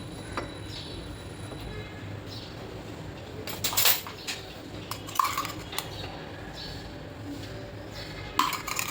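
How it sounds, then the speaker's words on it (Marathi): A kadhai pan is set on a gas stove to heat, with a few scattered metallic clanks and clinks over a steady low burner hiss and room hum. "इथे मी आता कढई गरम करत ठेवली आहे गॅसवर"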